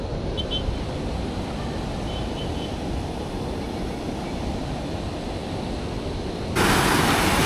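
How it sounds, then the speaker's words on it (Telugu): The stream Muula Vaagu at Vemulawada flows with a continuous broad rushing roar, heard close and steady, becoming abruptly louder near the end. "ఇక్కడైతే వాటర్ ఫ్లో చాలా బాగుంది"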